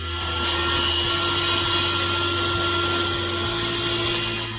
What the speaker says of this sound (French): Et bien sur le classique, la scie à main.